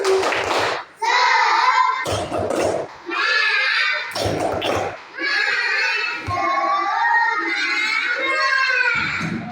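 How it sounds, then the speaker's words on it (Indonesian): An Indonesian classroom performs a rhythmic spirit clap: bursts of clapping alternate with loud, sustained group chanting and shouting voices, all close and energetic. "Jadi supaya lebih semangat lagi, coba kita tepuk semangat."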